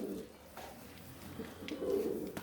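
Pigeons coo softly in a coop, low throaty calls repeating faintly in the background, with distant room noise around them.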